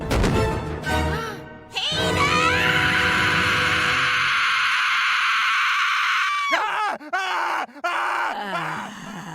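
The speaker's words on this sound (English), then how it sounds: "Alex Borstein deserves 5 Emmys for that blood-curdling scream alone." A long, loud, blood-curdling female scream from an animated Family Guy episode, sustained for several seconds at close range, then broken into shorter cries and gasps.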